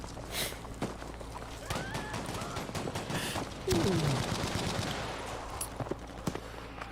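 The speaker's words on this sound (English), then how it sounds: "Aberbear rocking that patented Bren gun, taking out BKD right there, going for the reload" Bren light machine gun firing in Battlefield 5, rapid automatic bursts close up amid game noise and chatter, with a mid-clip surge of louder sustained fire.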